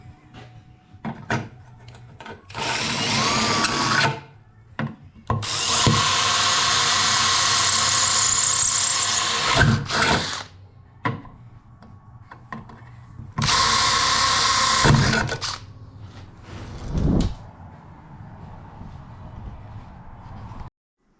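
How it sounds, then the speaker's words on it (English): A power drill bores mounting holes for rod holders on a small tinny boat build in a workshop, several loud close bursts of whining drilling separated by pauses, handling clunks and a rattle between runs. "Gonna drill these rod holders in."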